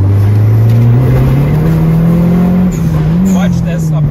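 Dodge SRT4 engine pulling hard under turbo boost, a loud, steady drone that climbs gradually in pitch from inside the car, with voices talking over it.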